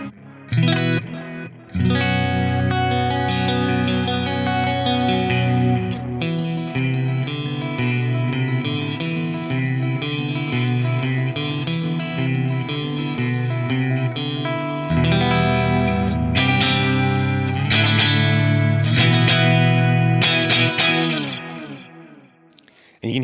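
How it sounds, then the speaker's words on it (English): An electric guitar plays through a Fractal AX8 modulated delay set to a triangle waveform, its sustained chords and picked notes smeared by shimmering, chorus-like repeats that trail into a reverb-like wash before fading out. "it acts almost like a reverb, but it's better than a reverb in my opinion, because it sort of doesn't get too washy and cluttered"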